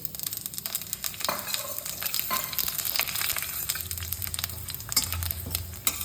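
Bay leaf, dried chilies, panch phoron and cumin fry in hot oil, crackling and spitting with a dense, close sizzle and bursts of popping throughout, no voices.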